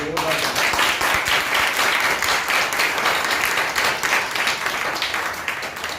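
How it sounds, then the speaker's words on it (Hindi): A crowd at a selection celebration for medical entrance students at a coaching institute claps loudly and steadily, a dense continuous wash of applause close by that tapers slightly at the end, with voices mixed in. "तालियां इतनी तेज होनी चाहिए"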